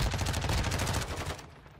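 Rapid automatic gunfire in the video game Modern Warfare 2, a dense burst of fast repeating shots lasting under two seconds, moderately loud and fading at the end, with no talk over it.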